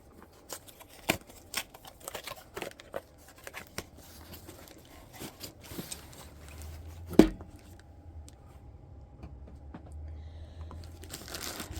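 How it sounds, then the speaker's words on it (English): Plastic wrap crinkles and crackles on a Diamond Art Club diamond painting kit in scattered close taps and rustles, with one sharp louder snap midway and soft handling noises in between. "I haven't even taken the plastic off yet, so sorry for crinkling noises."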